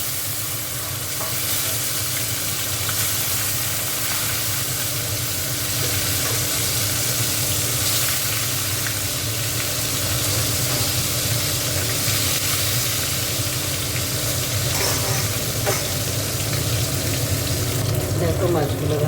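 Bhola fish frying in hot oil makes a loud, continuous sizzle and crackle for the whole stretch, with occasional stirring scrapes close by.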